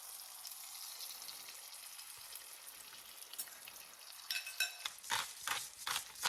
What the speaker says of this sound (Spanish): Comenzamos poniendo 3 tiras o pedazos de bacon en el sartén